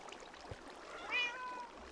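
A cat meows once in Minecraft, a short rising and falling mew at moderate volume over a faint background hiss, with a soft thump just before it.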